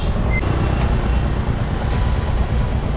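Busy road traffic with trucks on a weekend, a dense continuous rumble of engines and tyres close by, with faint high beeps or horn tones early on and no one speaking.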